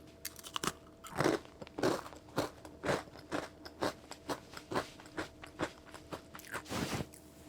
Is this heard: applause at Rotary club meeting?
no